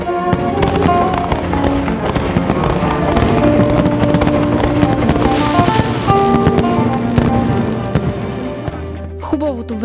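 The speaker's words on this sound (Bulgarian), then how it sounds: "Вечерта завърши с тържествена заря." A ceremonial fireworks display closes an evening at the Bata Agro 2013 agricultural fair, with dense, continuous crackling bursts and booms for nearly ten seconds, loud and close, before trailing off.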